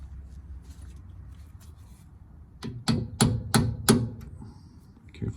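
A hammer taps a punch against the pin of a Brembo sport brake pad on a BMW, giving four or five sharp metallic strikes in a short, close burst after a quiet lead-in.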